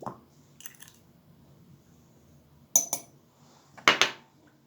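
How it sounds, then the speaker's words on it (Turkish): Sugar being spooned into a cauliflower pickle: a few bright metallic clinks and scrapes of a spoon against the container come in short separate bursts, with quiet stretches between them and no talking. "Şöyle şekerimden de koyuyorum."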